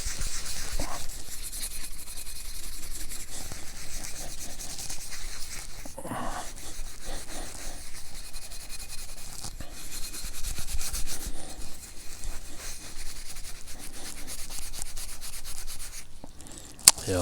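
Steady hand rubbing and scrubbing over the crusty, rusty surface of a Gravely/Ariens snow blower gearbox, a close, continuous rasping abrasion with brief pauses and small clatters, no talking.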